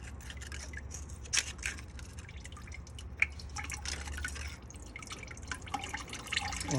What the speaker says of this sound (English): Let that drip.